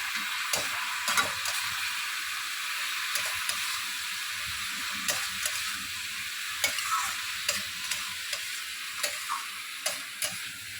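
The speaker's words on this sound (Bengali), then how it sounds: "কাঁচা লঙ্কা দেওয়ার পরে একটু নাড়াচাড়া করে নিলাম।" Green chillies stirred in a frying pan for a pumpkin-greens and moong dal dish, with soft steady frying and sizzle beneath scattered scraping taps of a spatula, fairly quiet and without voices.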